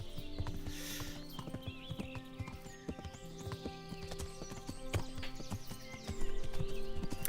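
Horse hooves gallop in a rapid, steady clip-clop through the countryside in the video game Kingdom Come: Deliverance, close and continuous with an occasional whinny over the game's background score.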